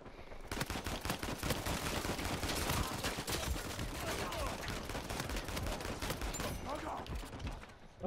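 Rapid gunfire from a sniping match on rooftops in Uncharted 4, dense overlapping shots and bursts sustained loudly throughout with faint voices underneath.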